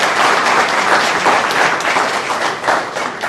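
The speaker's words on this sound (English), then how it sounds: "Can we give them another round of applause?" A loud, sustained round of audience applause for a panel at a disability celebration event, many hands clapping densely and evenly in a hall, swelling slightly near the end.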